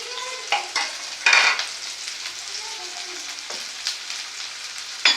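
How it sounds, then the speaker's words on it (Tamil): Small peeled, chopped onions going into hot oil and frying: a steady bright sizzle with occasional louder spatters and spoon scrapes, close and clear, for a goat brain fry. "எண்ணெய் சூடாகட்டும். அதுக்கப்புறம் வெங்காயம் போடுவோம்."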